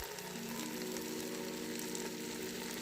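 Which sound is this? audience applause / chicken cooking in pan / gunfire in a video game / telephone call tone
chicken cooking in pan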